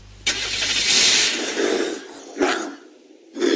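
A hatchback car engine in the video game Unturned starts up abruptly, revs and fades, then surges again in short bursts, loud and close with no talk.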